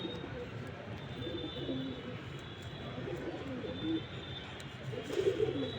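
A pigeon coos softly against steady background noise, low murmuring calls that swell a little toward the end.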